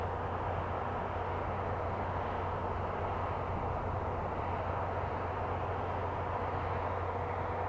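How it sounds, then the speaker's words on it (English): A blue and orange Southwest Boeing 737 at Austin-Bergstrom opens its throttles for takeoff, a steady, broad engine roar heard from a distance that holds even and unbroken throughout. "It's blue, it's orange, it's a 737, it's Southwest. Here we go! She's got the throttles open."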